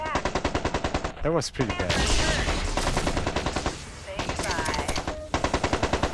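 Mech weapons firing in MechCommander 2, a video game: rapid, loud machine-gun-style bursts with heavy impacts and explosions. A voice speaks briefly in between the volleys.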